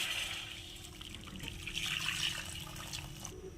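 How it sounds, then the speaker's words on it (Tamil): Water bubbles and simmers in a pan, a soft, steady churning hiss heard up close at low volume. "தண்ணி நல்லா கொதிக்க ஆரம்பிச்சிருச்சு"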